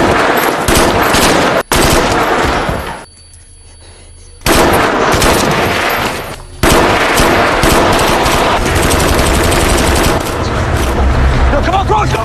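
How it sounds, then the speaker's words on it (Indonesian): In a film scene set during a terrorist attack on a luxury hotel in India, dense automatic gunfire pounds in loud, sustained bursts. It breaks into a brief quiet gap before the heavy shooting resumes. "Dua teroris bernama Imran dan Husam dengan brutal dan sadisnya menembak semua yang ada di sana"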